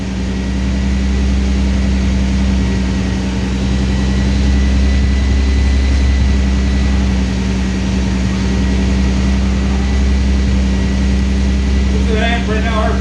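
A twin-turbo MG Midget engine idles near and loud at a steady low rumble, a continuous drone with a constant hum and no clear revving.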